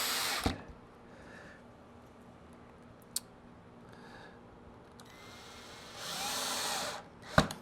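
Screws being driven back into the pickguard of a Mike Campbell Red Dog style partscaster guitar: sparse close ticks and clicks, then a couple of short, loud buzzing bursts near the end, with no talking.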